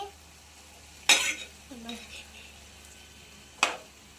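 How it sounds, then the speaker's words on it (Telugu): Potatoes fry in a pan for aloo fry while a spoon stirs them, giving two sharp scraping clanks over a low sizzle at close range, with a brief voice between. "దుంపకాయలు తర్వాత ఆలుగడ్డ వేసుకోవాలి. తర్వాత కలుపుకోవాలి."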